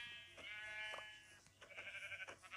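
Sheep bleat repeatedly in Minecraft, several wavering, nasal baa calls overlapping and following one another at moderate volume with no talk over them.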